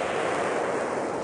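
Distant gunfire echoes through mountain terrain as a steady, dense rumble with no distinct close shots, continuous across the whole moment and with no talk over it.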